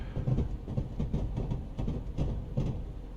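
A Class 170 diesel multiple unit passes in Train Simulator, its wheels beating a steady, rhythmic clickety-clack with a low rumble, loud and close.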